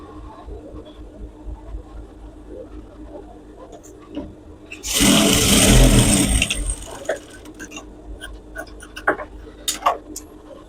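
A sewing machine joins the waistband pieces of ladies' pants, running in one loud whirring burst of about two seconds between quieter clicks and handling noises.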